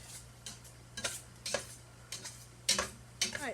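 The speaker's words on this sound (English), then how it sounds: "I put it at about kind of a medium heat, and I'll stir it occasionally." A spoon scrapes and clinks against a pot on the stove while strawberry honey jam is stirred over medium heat, the strokes coming in an irregular rhythm over a steady low hum.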